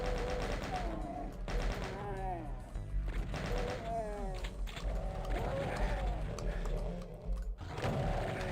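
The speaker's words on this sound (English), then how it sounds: "Why wouldn't there be a chain gunner behind me?" Chaingunner firing its rapid automatic gun in Doom 2, a steady rattling burst running under game music and effects throughout.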